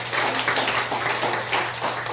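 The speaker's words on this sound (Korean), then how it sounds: "우리 박수 한번" Congregation applauding during a Sunday church service, a steady wash of many hands clapping together for a couple of seconds, loud and close.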